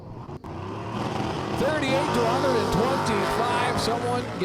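A 68 Chevy Nova and a Dodge Daytona Super Stocker launch side by side in a drag race, engines roaring loud and rising steadily over several seconds.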